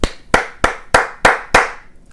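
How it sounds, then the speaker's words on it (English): Six sharp, evenly spaced hand claps, close and loud, each a crisp single slap about a third of a second apart. "Clap it up."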